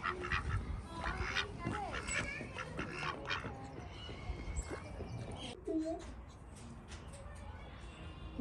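Ducklings and ducks at a children's farm park near a fence, giving scattered quacks and peeps in the open air, with children's chatter and adult voices over them throughout.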